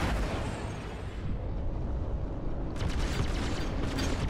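Ship weapons on a 350R fighter in Star Citizen fire in a dense, rumbling barrage with crackling impacts, loud and continuous over four seconds, with no talk.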